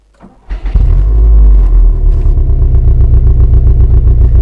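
A 2018 Subaru WRX STi's 2.5-litre engine cranks and catches, then settles into a loud, deep, steady idle rumble close by inside the car.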